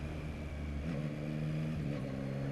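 A 2021 Yamaha MT-09 SP cruises at about 30 mph while its quick shifter changes gears: a steady, fairly quiet engine drone whose pitch steps twice in quick succession.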